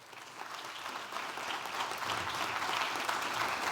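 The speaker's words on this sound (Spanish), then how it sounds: "Un aplauso." Audience applause at an ambassadors' panel discussion, starting moderate and swelling into fuller, steady clapping over a few seconds.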